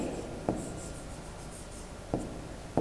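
Chalk or marker scratching across a board during a maths lesson, a faint continuous rubbing with a few sharper tapping strokes, alone and without talk.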